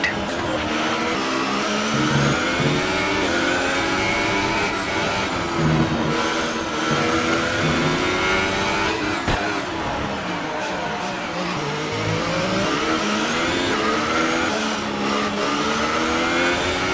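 Formula 1 race car in the F1 2018 racing game, its engine climbing steadily through the revs as it gets back up to racing speed, loud and continuous throughout with rising and falling pitch sweeps.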